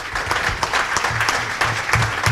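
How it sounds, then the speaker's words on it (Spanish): An audience at a talk claps together, a brief burst of moderately loud applause with a dull low rumble underneath, continuing steadily to the end. "Un aplauso para Él"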